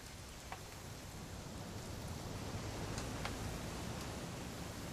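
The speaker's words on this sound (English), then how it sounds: "It's gonna rain the whole weekend, isn't it?" Steady rain falls in the game What Remains of Edith Finch, a dense, even hiss of drops on surfaces with a few soft, brighter taps, continuous and fairly close.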